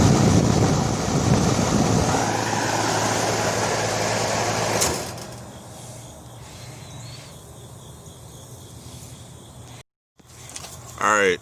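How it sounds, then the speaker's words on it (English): The condenser fan of an air conditioner with a faulty contactor runs with a loud, steady whirring drone for about five seconds. It then continues as a quieter hum, broken by a brief dropout near the end. "So fan is running"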